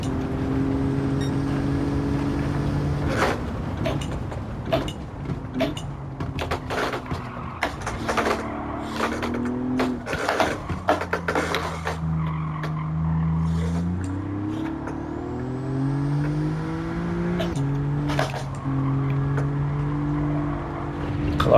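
Alfa Romeo Giulia GTAm racing in Gran Turismo 7, its engine note climbing and dropping through repeated gear changes and throttle lifts. Steady and fairly loud, with no talk over it.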